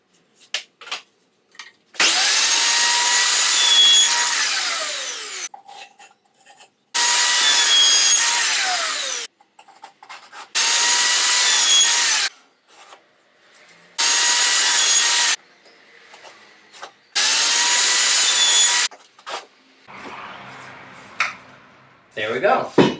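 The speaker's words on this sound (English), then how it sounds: "I've set up the miter saw with a stop block for the size I'll need for each of the dividers" Miter saw cutting scrap wood dividers with a stop block in a workshop, five loud close cuts, each a sustained high whine that spins up, bites through the wood and winds down, separated by short pauses.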